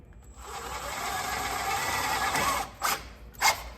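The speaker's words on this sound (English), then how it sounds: "we just put in our sheet metal screws" A power drill runs steadily for about two and a half seconds driving sheet metal screws into a 2019 Mercedes Sprinter VS30 van body, followed by two short, sharp bursts as the screws seat, close and fairly loud.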